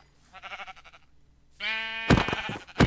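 Sheep bleating in the Minecraft video game, a couple of short, nasal bleats in quick succession, clear and close, with no talking over them.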